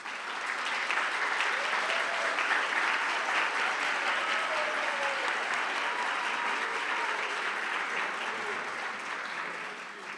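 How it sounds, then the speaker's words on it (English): Sustained audience applause at a school district retirement banquet, a steady wash of many clapping hands at moderate volume that carries on for about ten seconds before tapering slightly. "Please join me in one more round of applause to congratulate all of our retiring"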